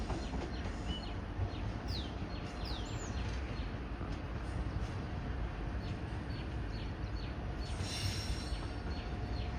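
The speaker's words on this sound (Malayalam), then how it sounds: "ഇത് ചണ്ഡീഗഡിൽ നിന്ന് മഡ്ഗാവിലേക്ക് വരുന്ന ഗോവ സമ്പർക്രാന്തി എക്സ്പ്രസ്" A Goa Sampark Kranti Express, running from Chandigarh to Madgaon, rolls through Sawantwadi Road station on the Konkan Railway with a steady broadband rumble. Faint wheel squeals and birdsong rise above it, and no one speaks.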